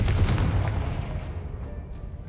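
A deep rumbling blast from the Confringo spell in the Hogwarts Legacy video game, a heavy low boom that fades over a couple of seconds, with no talking over it.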